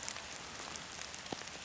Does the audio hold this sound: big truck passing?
no